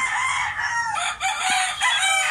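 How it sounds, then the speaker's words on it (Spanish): An eight-month-old jabao gamecock crows loudly and close, a drawn-out cock-a-doodle-doo broken by a short pause midway, with no talk over it. "Gallo jabao."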